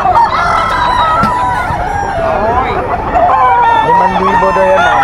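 At a gamefowl farm, a Sweater gamefowl rooster crows loudly and repeatedly among clucking birds nearby, with people murmuring in the background.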